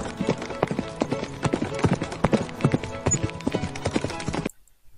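Steady clip-clop of horse hooves at a walking pace, close and clear, stopping abruptly at the end.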